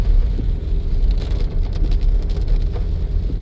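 Heavy rainwater rushing and gushing like a waterfall during a rain shower in Dehradun, a steady loud broadband roar with a low rumble running throughout, no talking.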